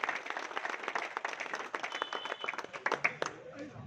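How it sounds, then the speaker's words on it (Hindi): Gathered crowd applauding to welcome a Congress politician, steady clapping with scattered cheers and voices throughout, fairly close and moderately loud. "जोरदार तालियों के साथ स्वागत कीजिए।"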